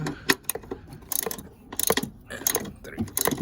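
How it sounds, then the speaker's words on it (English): Ratchet tightening strut bolts on the shock tower of a 1995 Plymouth Voyager, several bursts of quick metallic clicking separated by short pauses and clanks, close and crisp. "Tighten those down. There's 3 of them up here on the shock tower."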